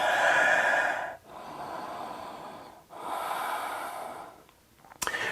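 Deep, loud breaths during a yoga pose: two long drawn inhale-exhale sweeps separated by brief pauses, close to the mic, with a softer breath at the end and a sharp click.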